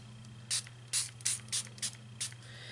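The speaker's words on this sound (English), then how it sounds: "Let me spray a little bit more." Six quick bursts from a spray bottle misting water onto paper, evenly spaced, close and crisp, over a low steady hum.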